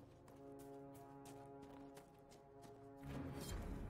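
Horse hooves clip-clop in the fantasy game Dragon Age Inquisition, a quiet run of hoofbeats over a faint humming background that turns louder and busier toward the end.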